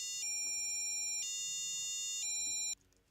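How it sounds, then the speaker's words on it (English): An electronic buzzer on a learning shield board sounds a siren tone that steps between high and low pitches in repeated one-second cycles, clear and steady, then cuts off abruptly. "the buzzer makes a sound that goes higher and lower"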